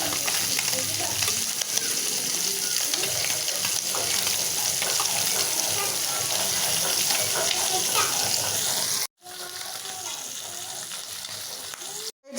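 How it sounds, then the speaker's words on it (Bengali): Eggplant and potato pieces sautéing in a home kitchen pan, a steady dense sizzle with stirring scrapes, close and continuous, briefly cut then resuming. "এই যে চাপলার গুঁড়াগুলো রান্না করার জন্য আমি বেগুন আলু এগুলো কষাই নিলাম।"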